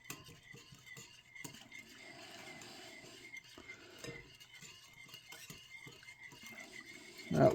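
A whisk stirs wing sauce ingredients together in a bowl for game-day chicken wings, giving a steady, soft scraping and tapping rhythm at close range, with a brief louder clink at the end.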